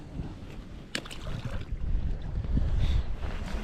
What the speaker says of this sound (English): the wind is blowing out here